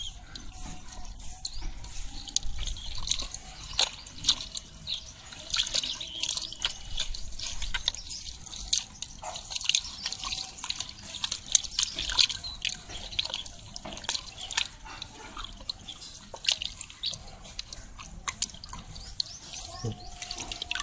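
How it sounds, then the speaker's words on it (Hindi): Water drips and trickles continuously while the roots of a Nagchampa plant soak in water, with irregular small splashes and patters over a steady wet hiss for about twenty seconds. "अब जो हम इसको पानी में निकाल लेंगे ताकि जो है इसकी जड़ जो है वो नरम हो जाए।"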